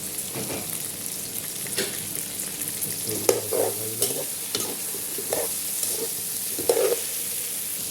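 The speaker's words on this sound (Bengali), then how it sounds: "তো পাঁচ মিনিট পরে ঢেঁড়সগুলো ঢেলে দিচ্ছি" Chopped okra hits a hot pan and fries in an okra vegetable curry, a steady sizzle with a few sharper spatula scrapes and clatters as it is stirred, close and moderately loud, with no one speaking.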